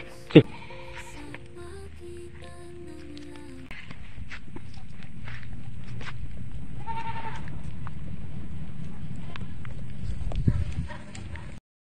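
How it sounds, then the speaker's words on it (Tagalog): Goats bleating on a farm, several loud nearby calls early on, then quieter bleats against steady outdoor background noise and some clopping. "So, update natin ang kambing."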